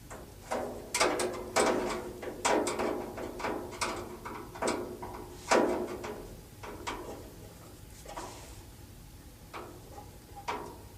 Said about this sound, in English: Now I've got all 4 screws tightened in, so my blower is now attached to the liner.